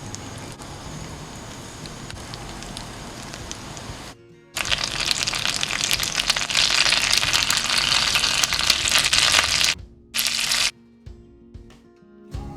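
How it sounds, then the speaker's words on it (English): Chicken malai seekh kebabs sizzle loudly on a hot buttered griddle pan with fried onion oil, a steady frying hiss that drops out briefly, surges back strong, then cuts off in short bursts near the end. "Put our seekh kebabs on hot griddle pan."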